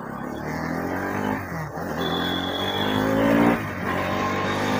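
Bajaj NS 200 motorcycle fitted with a slipper clutch, its engine droning steadily on a test ride, revs rising and dipping as the rider drops from third gear straight to first, with no talk.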